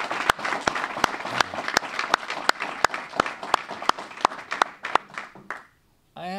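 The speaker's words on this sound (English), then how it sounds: "How about a round of applause for our graduates?" A crowd applauds graduates of an inmate culinary program, broad applause with sharp, regular nearby claps standing out, fading to silence before a voice begins at the very end.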